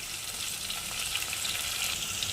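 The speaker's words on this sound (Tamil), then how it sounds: "வெங்காயம் நல்லா வதங்கட்டும்" Small onions and chillies sautéing in a pan, a steady close sizzle and crackle of frying that runs evenly throughout with no voices.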